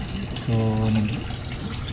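Water overflows from a hose into a backyard crayfish tank, a steady rushing wash that runs throughout while a voice speaks briefly over it.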